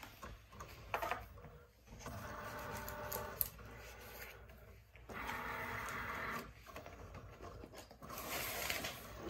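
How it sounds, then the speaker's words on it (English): Home printer running a print job of an image, steady mechanical whirring with rhythmic pulses and brief pauses as the paper feeds, moderately close with no talk. "I'm going to add another sheet of paper into the printer"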